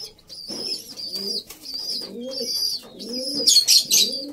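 Racing pigeons in a loft give a run of close, rhythmic coos, with sharp chirps and a high squeaky call near the end.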